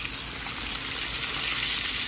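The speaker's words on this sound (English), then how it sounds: "straight out the buttermilk, and then into the frying pan" Buttermilk-dipped chicken pieces fry in a pan turned down to medium heat, giving a steady, close, dense sizzle that holds evenly throughout with no voices.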